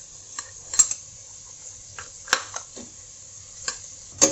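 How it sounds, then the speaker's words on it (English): A spoon stirring onion with ginger garlic paste in a pot for Kerala mutton stew: scattered metallic scrapes and clinks at irregular intervals over a faint sizzle and a steady high hum. "Mix this well till the onion turns brown."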